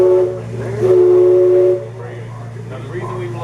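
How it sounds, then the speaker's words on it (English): The steam whistle of the Mark Twain Riverboat gives one clear, steady, chord-like blast lasting about a second and a half, over a low engine hum, then fades to background noise. "now you're going to reach over to the handle on the right and blow the whistle 2 times"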